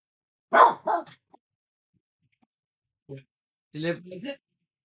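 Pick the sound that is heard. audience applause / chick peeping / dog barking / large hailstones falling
dog barking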